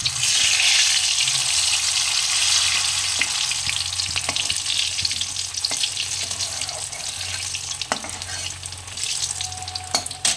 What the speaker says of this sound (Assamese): আলু ফ্ৰাই কৰি আছোঁ